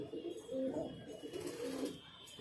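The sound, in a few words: pigeons in a highflyer pigeon loft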